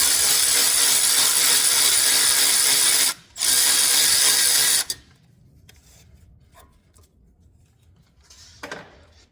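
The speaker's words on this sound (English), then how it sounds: "I'm going to take this 10 millimeter out." Harsh, continuous ratcheting buzz from a power ratchet backing out a 10 millimeter bolt on a 2024 Ford F-150 Lightning truck, loud and close, broken by a short pause, then stopping, leaving quiet clicks and handling noise.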